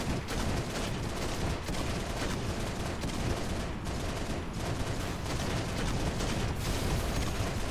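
Continuous gunfire in a Halo match, rapid overlapping automatic bursts with sharp cracks, loud and close throughout, with no talk.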